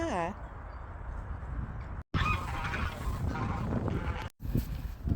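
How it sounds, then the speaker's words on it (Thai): A duck from a flock swimming on water gives a brief honking quack right at the start. After that comes a close, windy outdoor wash on a cold, sunny day, with a person talking. "ชมฝูง น้องเป็ดว่ายน้ำแบบนี้แล้วสดชื่นมากๆเลยค่ะ"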